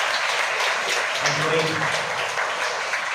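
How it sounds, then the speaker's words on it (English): Applause at a boys' school program honouring the teachers, a steady wash of clapping from a large audience with voices talking over it throughout. "So a round of applause for all the acharyas"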